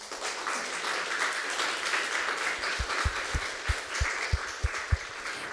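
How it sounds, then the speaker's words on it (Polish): An audience at a book presentation applauds its guests with a sustained wash of clapping, while several sharp, low knocks thump at uneven intervals partway through. "należą im się wielkie brawa"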